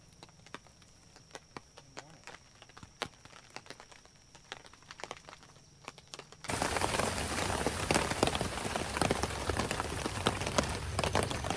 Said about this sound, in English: This rain ain't letting up